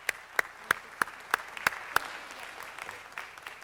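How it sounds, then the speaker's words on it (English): Applause at a city council meeting, heard as a short run of evenly spaced, moderately loud claps that taper off into quiet room noise. "Let's give the Santa Monica Vikings a round of applause."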